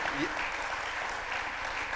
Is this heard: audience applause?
yes